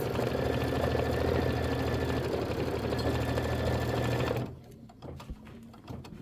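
A sewing machine stitches a tack-down line on a chenille pineapple quilt block, a loud, steady, rapid mechanical whir close up that stops abruptly near the end, followed by faint handling noises.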